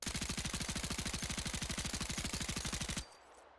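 Sustained automatic gunfire from a weapon in an Arma 3 military modpack, a rapid, even stream of roughly fifteen shots per second for about three seconds, loud and close, then stopping abruptly into a faint tail.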